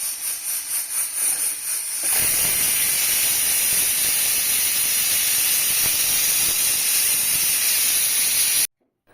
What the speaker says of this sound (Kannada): ಈಗ ಕುಕ್ಕರ್ ಮುಚ್ಚಿದ ಮೇಲೆ 2 ರಿಂದ 3 ವಿಸಿಲು ಬರೋ ತನಕ ಬಿಡಬೇಕು